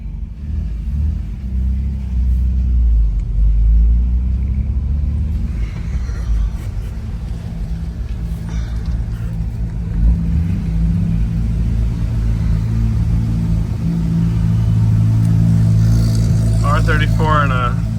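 A car engine rumbles steadily at close range while a car pulls into a shop, with a low drone throughout and people talking over it.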